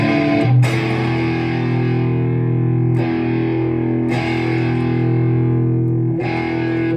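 Electric guitar with its volume knob rolled back, strummed with a mild, slightly crunchy drive, chords ringing out and restruck about every couple of seconds, steady and close.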